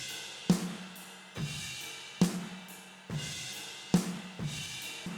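Drum room mics without a gate, compressed heavily and run through a tape plugin: roomy snare hits land roughly every second with a long washy ambient tail filling the gaps, steady and close.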